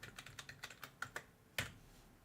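Keys on a computer keyboard tapped in a quick, uneven run of about ten soft clicks, with a louder final keystroke after a short pause; faint and close, with no talking.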